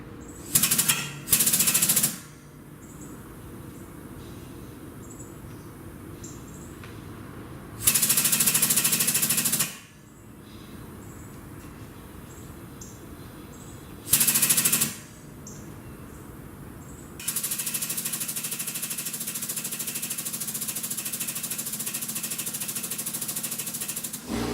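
A Klutch 16-ton air-powered pipe bender runs in loud pneumatic bursts, a harsh hammering rattle that starts and stops several times and ends in a sustained drive, over a steady mechanical hum.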